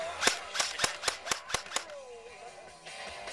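Sharp, rapid shots from an E&L AK74 airsoft rifle aimed at an outdoor target, six close clicking cracks in an even rhythm, followed by quieter background noise.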